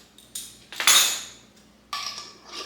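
A metal teaspoon scoops active dry yeast into a bowl, making several close clinks and scrapes in separate bursts, with quiet gaps between them.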